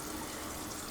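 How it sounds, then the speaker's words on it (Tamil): Thin, watery ground pepper paste is poured into a pan while cooking village-style country chicken sukka, making a brief, steady, close splashing gush with no talk. "ஆட்டி வச்ச மிளகு சாந்து ஃபஸ்ட்டு வந்து அந்த தண்ணி மாதிரி இருக்கிறத ஃபஸ்ட்டு உள்ளே ஊற்றிடலாம்."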